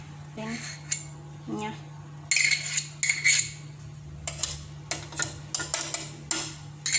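Choux pastry dough with margarine is stirred in a pot over low heat, a spoon knocking and scraping the metal in irregular clustered bursts, close and sharp, with quieter pauses between strokes.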